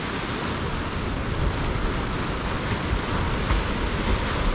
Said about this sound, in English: I love watching waves.